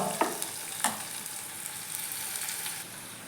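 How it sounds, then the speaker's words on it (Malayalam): Shallots sautéing in a pan for a yogurt curry give a steady soft sizzle, broken by a couple of sharp stirring clicks near the start, no voices. "അപ്പോൾ ഉള്ളി നന്നായി വഴണ്ട് വന്നിട്ടുണ്ട്"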